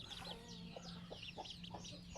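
A small backyard flock of farm chickens, raised from chicks with a few roosters among the hens, keeps up soft repeated clucking at a moderate distance, no voices present.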